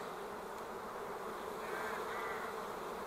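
Spring honey bees hum inside an open hive, a dense, continuous buzzing drone at moderate level with no voices, swelling slightly partway through.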